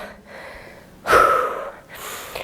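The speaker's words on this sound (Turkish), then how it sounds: "Nefeslendim, derin nefes aldım." A deep, heavy breath drawn in during a HIIT cardio workout, one sharp close gasp followed by a slower exhale, with softer breathing before and after.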